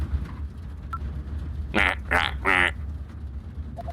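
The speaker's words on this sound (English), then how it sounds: "That damn duck doesn't shut up, we're all dead." A duck in the Ezrebeth video game quacks three times in quick succession, loud and close, over a low rumbling background.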